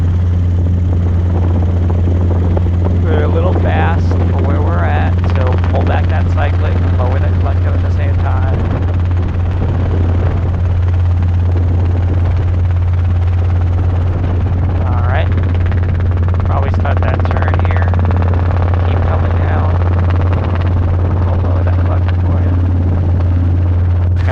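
A loud, constant Robinson R22 helicopter rotor drone from inside the cabin during a training flight, with radio chatter and voices talking over it.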